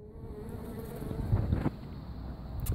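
Steady buzzing of honeybees close by during a hive removal from apartments, a continuous hum with light rustling and a faint whine in the background.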